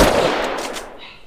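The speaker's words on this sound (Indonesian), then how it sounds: "Aku tembak kepalanya." Gunfire in a video game: a loud, dense burst of shots right at the start that quickly fades into a thinning tail.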